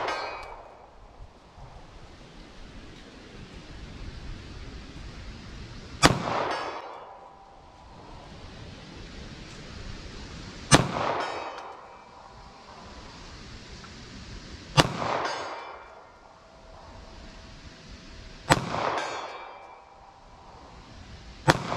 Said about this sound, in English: So 380 ACP, I'm going to shoot slow, line up these sights, see if I can make any hits from 75 yards.